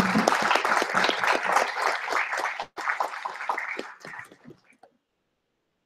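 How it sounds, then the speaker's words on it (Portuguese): A round of applause from the audience at an international seminar session, dense clapping for about four seconds that thins to scattered claps and stops. "saudá-los com uma salva de palmas"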